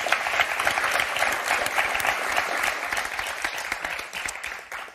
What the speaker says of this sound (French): On va applaudir Inès, tiens.